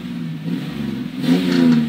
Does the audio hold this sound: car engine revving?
yes